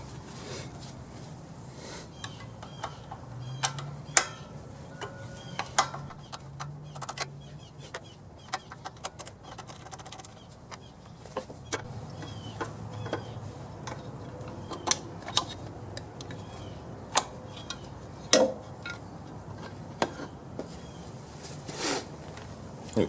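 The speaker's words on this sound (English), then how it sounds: "let's take the carburetor off and get it cleaned" Someone removes the carburetor from a generator, with scattered metallic clicks, taps and tool ticks against a quiet background, close and irregular.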